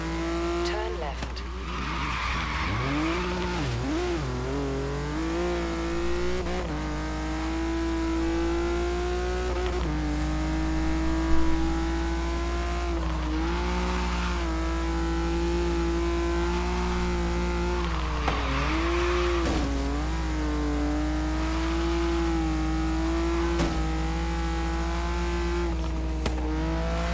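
A Mustang roars through a driving video game, its engine droning steadily throughout with revs rising and falling, and tyres squealing in skids at several points; someone talks loudly over it.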